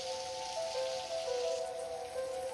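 Heavy rain pours down steadily during a severe thunderstorm, a dense, continuous hiss of drops striking surfaces with no breaks.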